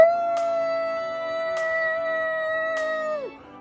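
A man imitates a wolf howl with one long, sustained, tonal cry held at a steady pitch before it slides downward and breaks off, loud and close, with a few faint clicks behind it.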